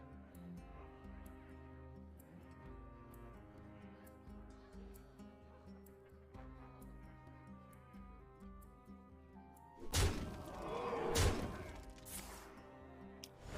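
Explosion effect in the card game Hearthstone, a loud crashing burst with a shattering tail that breaks in over ongoing game music and chimes, then a second smaller burst.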